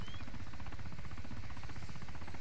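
Rapid, rhythmic rotor chopping of a nearby helicopter in DayZ for Arma 2 thuds continuously, loud and steady throughout.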